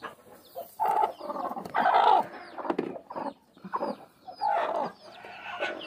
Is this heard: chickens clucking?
yes